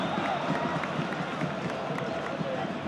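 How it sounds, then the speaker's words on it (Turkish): Stadium crowd at a 1999-00 Antalyaspor vs Galatasaray football match applauding goalkeeper Adnan, a steady dense roar of clapping and cheering from the stands that fills the whole stretch with no let-up. "Adnan alkışlanıyor korner"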